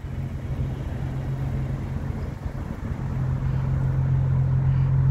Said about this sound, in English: Really nice sounding exhaust on it.